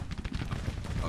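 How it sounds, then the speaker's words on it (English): An artillery battery fires in a Civil War strategy video game, a dense, rumbling volley of booming shots packed into a brief, loud moment. "My battery firing."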